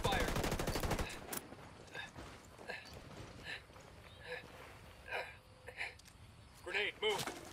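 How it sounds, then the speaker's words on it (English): Gunfire in Ghost Recon Wildlands arrives as short sharp bursts and single shots, spaced irregularly and of moderate loudness, with an opening stretch of dense noise. "Taking fire."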